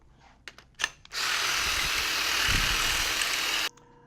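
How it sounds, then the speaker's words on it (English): A standard power drill bit bores into the hosel of a golf wedge club head, whining steadily and loudly for nearly three seconds after a few brief handling knocks, then stopping abruptly. "The next bit we're going to use is just a standard drill bit here"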